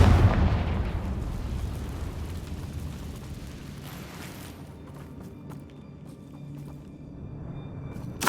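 A Confringo blasting spell explodes in Hogwarts Legacy, a loud, booming burst that hits at once and then rumbles and crackles as it fades over several seconds.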